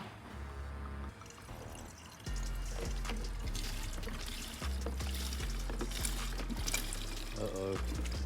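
Gas-line antifreeze pours from a bottle into a fuel tank, a steady gurgling stream running for several seconds under a low background hum, with no talking.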